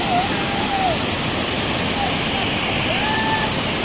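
Strong rushing water roars continuously at the Usgaon waterfall near Virar, a dense steady wash of noise with faint chirping sounds above it.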